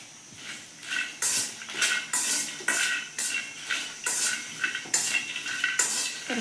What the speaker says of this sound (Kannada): ಒಂದು ಸ್ವಲ್ಪ ಕರಿಬೇವು ಸೊಪ್ಪು ಹಾಕೋಣ.